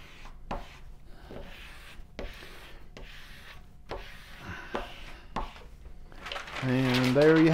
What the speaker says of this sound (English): we're going to take our transfer paper and we're going to do the same thing, this time with the printed side up. And we'll squeegee that on there.